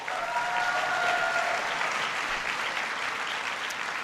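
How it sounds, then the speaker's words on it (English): An audience at a Michigan State University bill-signing event gives a sustained round of applause, a dense, even wash of clapping with a faint whistle early on, held at moderate distance. "Give Ben a big round of applause."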